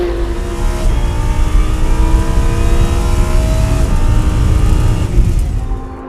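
Race cars circling the Paul Ricard circuit, led by an Arcadia team Lamborghini, a loud continuous roar of engines with layered whining tones and revving as the cars pass and fade slightly at the end.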